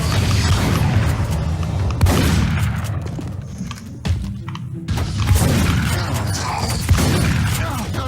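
Booming explosions and gunfire in The Bureau XCOM Declassified video game fill a chaotic battle, with loud blasts near the start and again later, separated by a brief quieter lull.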